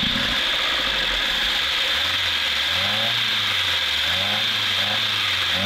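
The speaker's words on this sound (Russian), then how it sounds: "просим нашего уважаемого клиента завести машину" A VAZ car with an OZON carburetor, its engine cranked and catching, then running at a loud, close idle with a rising and falling low drone over a steady hiss.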